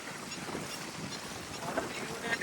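Waves wash steadily on lake water near a temple, a continuous broadband rush mixed with wind buffeting the microphone.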